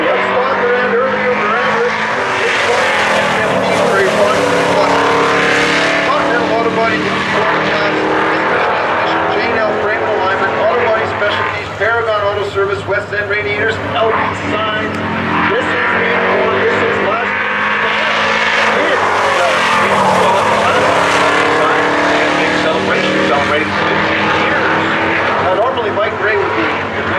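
Street stock race cars at Sutherland Automotive Speedway, a loud constant engine roar with rising and falling passes as the cars circle the track, with an announcer talking over the racing throughout.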